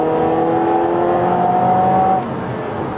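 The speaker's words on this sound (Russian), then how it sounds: "Ну вот 20-ка газку в пол." A Mazda Axela's engine revs hard at full throttle, a loud, steady rising drone heard from inside the car that holds for about two seconds before easing off slightly, with no talking.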